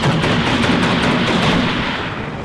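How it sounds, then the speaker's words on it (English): Dense, continuous gunfire and explosions as an Mi-24 helicopter gunship attacks exposed artillery positions in the real-time strategy game Warno, a loud sustained barrage with no pauses. "this Mi-24 here coming in and just wrecking all of this artillery"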